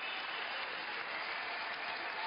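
Dense, sustained applause from a crowd giving a standing ovation at a badminton final in Stade Pierre de Coubertin, steady and continuous with no let-up.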